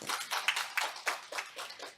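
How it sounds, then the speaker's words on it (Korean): Audience clapping for the stage panel of chair, presenters and discussants at a forum session, with scattered, fairly faint hand claps coming in uneven pulses over a couple of seconds. "다시 한번 무대 위 좌장, 발표자, 토론자께 큰 박수 부탁드립니다."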